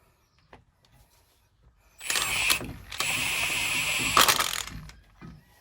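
A ratchet tightens an 18 mm bolt on the brakes of a Chevy 3500 Duramax diesel dually, giving a few seconds of close, steady mechanical clicking that starts after a short quiet stretch and runs alone.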